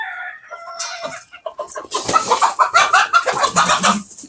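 Close, loud chickens clucking and squawking in a busy flurry, with agitated calls overlapping after a quieter start.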